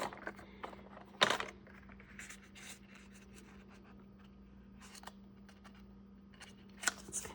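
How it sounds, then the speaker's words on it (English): Scissors cut through a paper card for a junk journal, a quiet scraping, snipping sound with a sharper crisp snip near the start and another near the end, faint and close with no talking. "I'm going to cut it in half."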